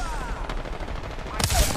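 Apex Legends firefight with a short run of loud, close gunshots, a sharper burst near the end, under a brief stretch of voice.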